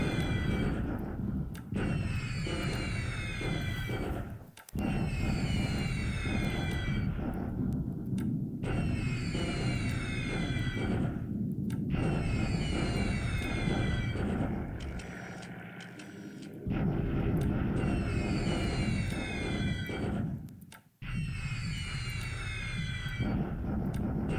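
Bombardment in the War in the Pacific strategy game, with aircraft and explosions: a loud, dense rumble with heavy low booms that runs almost without a break, with repeated bursts of chirping effects over it and a few short drops in level.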